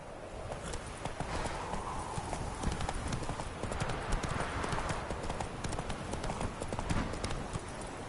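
Horse hooves clip-clop steadily at a trot in The Witcher 3 video game, a continuous rhythmic patter under a dense, rustling outdoor game ambience.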